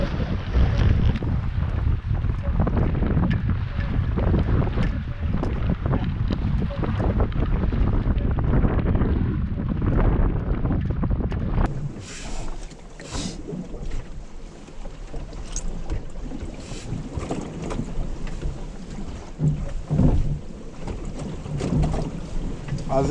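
Strong wind gusts buffet a small sailboat under way, producing a loud, continuous roaring rush against the microphone with water and hull noise beneath, easing slightly in the second half.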